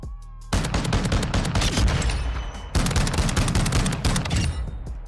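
MX Guardian shotgun firing in Modern Warfare 2, rapid repeated loud blasts in two sustained bursts separated by a brief gap, close and dominant with no talk.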